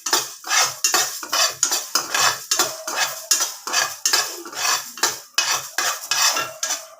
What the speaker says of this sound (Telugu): మిరియాలు ఇవన్నీ వేసుకొని ఫ్రై చేసుకుందాం. ఇవన్నీ సన్నటి మంట పైన ఫ్రై చేసుకోవాలండి.